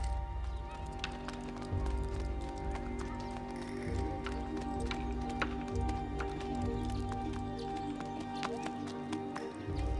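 Horse hooves clip-clop in a steady, close rhythm while someone speaks soothingly in French to calm the nervous horse, with an occasional whinny mixed in.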